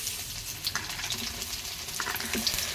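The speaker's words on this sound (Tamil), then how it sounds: "பாருங்கள், வெங்காயம் போட போகிறாங்க." Onions fry in hot mustard oil while being stirred, a steady close sizzle broken by occasional clinks and scrapes of the spoon against the pan.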